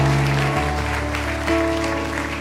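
A church congregation applauds steadily, a dense wash of clapping that holds for a couple of seconds, with a sustained organ or keyboard tone underneath.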